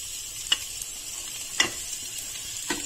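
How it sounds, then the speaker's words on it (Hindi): Sabudana and potatoes being stirred and sautéed in a pan, heard as three faint, evenly spaced scrapes of a spoon against the pan over a quiet background. "अभी देखिए हमारे आलू भी सौते हो गए हैं, तो अपना साबूदाना हम इसमें ऐड कर देते हैं।"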